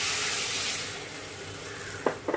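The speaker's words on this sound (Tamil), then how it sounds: "ஸோ இப்போ இதுக்கு தேவையான வாட்டர் ஆட் பண்ணிக்கலாம்." Pepper drumstick curry sizzling in a pan as water is poured in, a broad steady hiss that slowly eases, followed by a couple of short clinks near the end.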